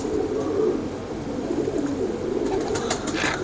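A Royal Teddy pigeon, a male, coos softly at close range, low murmuring calls over a quiet background with a few faint sharp chirps near the end.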